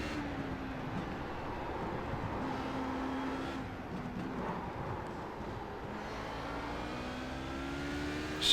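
An LMP1 prototype race car closes in and passes in the iRacing simulator. A high engine whine rises and falls through gear changes over the steady drone of the player's own car, with no talk.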